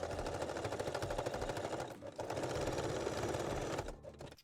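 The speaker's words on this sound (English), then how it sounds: "and thread and stitch the straps" A sewing machine stitches bralette straps in a fast, rattling run of needle strokes, close and fairly loud, briefly pausing near the middle and slowing to a stop at the end.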